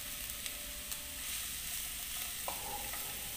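Onion, and then cabbage, stir-frying in a pan for veg momos, giving a soft, steady sizzle with light scraping and a few small taps; quiet and close, with no voices.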